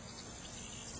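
A steady, high-pitched insect chirping, like a cricket or katydid, buzzing continuously and fairly faint, with no voices over it.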